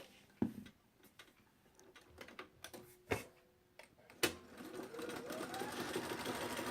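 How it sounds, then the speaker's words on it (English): A sewing machine stitches down a row of a quilt, giving scattered clicks and knocks followed by a steady rising whir of fast stitching, close and fairly quiet. "we're going to sew down this row"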